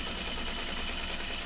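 A sewing machine stitches stretchy fabric in a steady, continuous whirring drone, close and even with no pauses.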